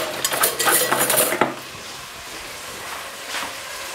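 A fork or spoon scraping and clinking against a dish of fried omena, Lake Victoria sardines, in a quick run of light metallic taps that stops, leaving quiet room noise.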